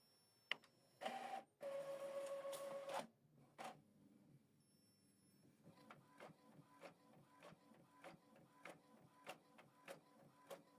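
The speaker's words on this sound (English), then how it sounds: "Preparing to print the reverse side of the paper." An Epson WF-2950 inkjet printer feeds paper and prints the reverse side: a few loud mechanical whirs and a sustained motor tone early, then a steady run of rhythmic clicks and clacks from the print head carriage, close and with no talk.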